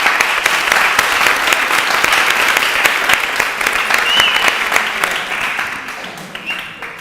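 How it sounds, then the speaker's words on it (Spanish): An audience applauds at a literary event with author Marta Robles, welcoming two guests to the lectern: dense, steady clapping held for about seven seconds, fading slightly toward the end. "les vamos a recibir con un aplauso"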